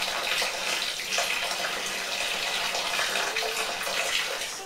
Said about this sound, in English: using boiling water, which is sanitising all the time, so don't worry about it running over the lid.